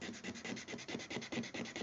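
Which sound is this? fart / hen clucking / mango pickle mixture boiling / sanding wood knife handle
sanding wood knife handle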